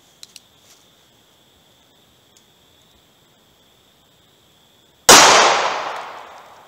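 A single sharp, loud gunshot from an NAA Mini revolver firing a 40 grain CCI Maxi Mag .22 Magnum round cracks out after a long quiet spell, its echo trailing off over more than a second.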